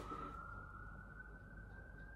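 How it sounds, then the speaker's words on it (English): A passing emergency vehicle's siren wails steadily at one high pitch in a city, moderately loud and continuous over a low rumble of traffic noise. "The sirens just interrupting that was disgraceful."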